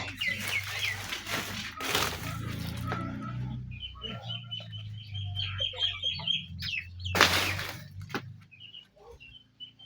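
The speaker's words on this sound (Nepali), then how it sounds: "हाम्रो अर्ग्यानिक गाउँको चाहिँ लोकल भालेहरू जुठेलभरि" Local village roosters cluck and call nearby in short bursts, with a couple of sharp louder squawks and some quieter rustling in between.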